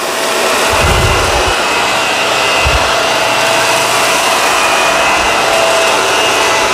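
A Dyson Ball upright vacuum cleaner runs steadily and loudly with a broad whooshing roar, with a few low thumps and rattles as dirt and fine dust are sucked up into the bin.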